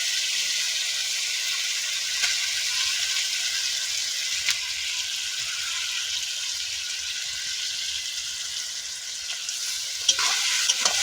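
Chicken meat, a kilo of it, hisses and sizzles in hot oil with fried spices while cooking chicken curry, a loud, steady frying hiss with occasional stirring clicks, close up throughout.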